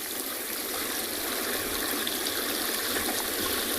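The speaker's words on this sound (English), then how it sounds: "There's something very soothing about the sound of that water, the mini waterfalls of Chitwa Dam." Water pours steadily over the mini waterfalls of Chitwa Dam, a constant broad rushing wash, close and even, with no voices.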